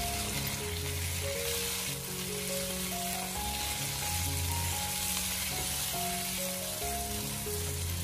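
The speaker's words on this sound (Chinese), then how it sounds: "然后再用锅铲把青辣椒翻炒一下。" Green chili peppers sizzle and fry in a hot wok, being stir-fried and pressed down with a spatula until blistered; a steady, close crackling hiss continues throughout, with occasional scraping of the spatula and no talking.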